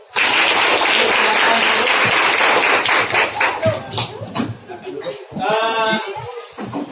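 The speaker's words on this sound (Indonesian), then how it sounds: "Tepuk tangan dulu." A class of young students bursts into applause in a classroom lesson, brisk clapping for about three seconds that fades into scattered claps, chatter and giggling, ending with a voice.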